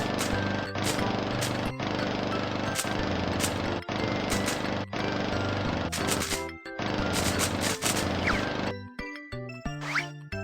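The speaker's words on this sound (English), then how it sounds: "So many weeds! Let's mow the lawn." A cartoon lawn mower in a children's video game mows down weeds with a loud, steady mechanical buzz, broken by regular short clunks and ending in a few chopping and bouncy effect sounds.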